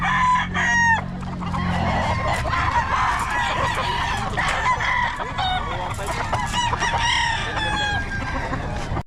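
Chickens cluck steadily and a rooster crows over a busy market bustle, with voices talking in the background.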